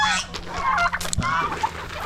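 Turkeys, hens kept for breeding, in a farmyard pen with geese nearby, give a few short gobbling and clucking calls over steady outdoor background noise, close and moderately loud with no talk.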